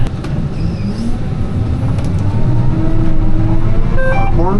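A Hagie STS12 sprayer drives along a rough field road, its engine a loud, steady low rumble heard close from inside, with rattles and jolts from the bumpy ride and the drone building slightly toward the end.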